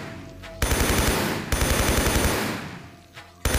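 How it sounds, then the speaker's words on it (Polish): Enemy gunfire in the video game Tomb Raider III, Coastal Village level: loud bursts of rapid automatic shots, two long volleys with a short gap, then a final burst starting at the end. "Ktoś strzela do mnie."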